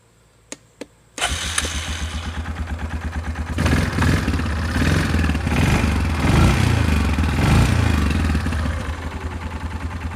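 A Yamaha Kodiak ATV, its carburetor freshly cleaned, gives two sharp clicks, then cranks and starts before settling into a loud, close, evenly chugging idle that swells briefly and then steadies.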